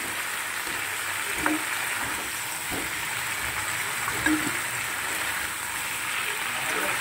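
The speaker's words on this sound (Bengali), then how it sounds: "দিয়ে এবার ভালো করে কষিয়ে নেবো বেশ কিছু সময় ধরে।" Spice paste made with dried chilli sautéing in a pan, a continuous soft sizzle with a few light clinks of stirring, moderately close and steady throughout.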